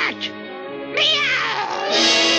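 A voice in a 1947 cartoon imitates a cat's meow, drawn-out and tonal with a rising, wavering pitch, loud and close, two calls in quick succession.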